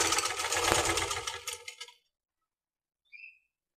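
A sewing machine runs a steady stitch along a maxi dress seam for about two seconds, then stops, followed by a faint short squeak.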